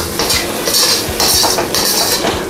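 Chicken with salt being stirred in a metal pan, a metal utensil scraping and clinking against the pan in a steady back-and-forth rhythm, close and loud with no talking.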